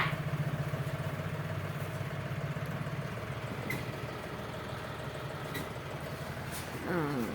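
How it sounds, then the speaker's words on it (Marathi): A steady low tractor engine idles throughout at a sugarcane harvest, a continuous rumbling drone with a slight rise in level near the end. "हा ट्रॅक्टर"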